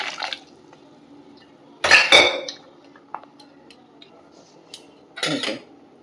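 Mung and a little masoor lentils being washed in water in a metal pot, with clinking and clattering of utensils in a few distinct bursts, splashing rinses between quieter pauses.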